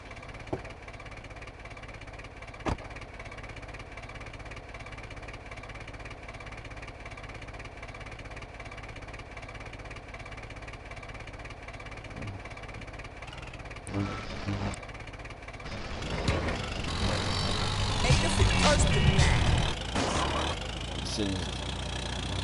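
Truck engine in GTA San Andreas, a constant loud idling drone that roughens and swells louder near the end, with a voice talking over it.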